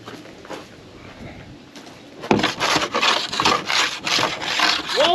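A rough brick is rubbed hard across a plastic car headlight lens, giving loud gritty scrubbing strokes that start after a quieter stretch and repeat steadily, close by with no talk.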